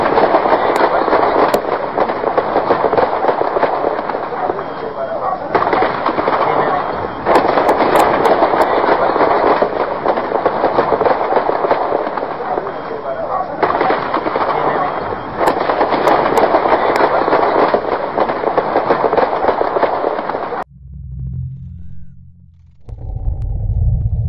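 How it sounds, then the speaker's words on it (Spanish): Sustained rattling bursts of machine gun fire during an armed attack on a military barracks, dense and continuous in long stretches with short breaks, harsh and loud in distant-sounding archive footage. "Se escucha el tableteo de ametralladoras que intenta neutralizar al grupo que ha ingresado por la fuerza"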